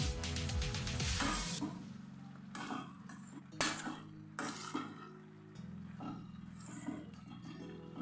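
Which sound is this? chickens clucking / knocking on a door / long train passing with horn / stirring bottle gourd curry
stirring bottle gourd curry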